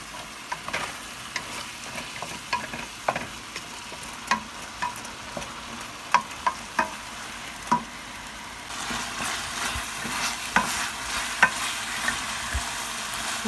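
Pasta stirred and fried in a pan for a Filipino-style pasta Italiana, with a steady close sizzle and regular scraping stir strokes, the frying growing louder and busier toward the end, and no talking.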